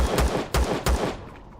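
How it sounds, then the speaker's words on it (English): Gunfire in the video game Empyrion strikes a structure, four sharp shots in an uneven burst, close and loud, then a fading tail with no talk. "let's shoot our way in and see if we can loot anything here"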